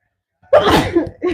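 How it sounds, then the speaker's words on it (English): A single loud sneeze close by, a sharp burst with a short breathy tail and a quieter follow-up sound just after. "I think I have to sneeze."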